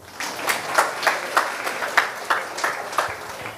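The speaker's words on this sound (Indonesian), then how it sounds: "Tepuk tangan dulu." A short burst of applause from a group, rhythmic clapping swelling and holding steady for a few seconds before fading.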